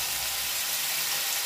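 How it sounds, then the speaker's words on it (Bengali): Masala paste with salt and turmeric fries in a pan after a little water goes in, giving a steady, soft, hissing sizzle with no voices. "মশলাটা আমি ভালো করে কষে নেব"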